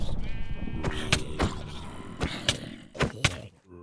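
Sheep in the video game Minecraft bleat repeatedly in wavering cries, close and fairly loud, mixed with several dull thumps and thuds.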